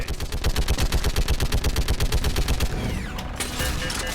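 Rapid sustained machine gun fire from the Mass Effect video game, a dense rhythmic burst of loud shots that cuts off near the end, leaving brief echoing tails and ringing debris sounds.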